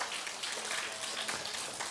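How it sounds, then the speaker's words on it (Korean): Applause from a church congregation at a prayer retreat service, a steady broadband patter of many hands clapping at moderate volume throughout, with no talk over it. "하나님께 영광의 박수 올립니다."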